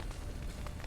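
Fire crackling and roaring in The Witcher 3 game world near a locked stable, a dense low rumble with faint pops, steady and fairly quiet for under a second.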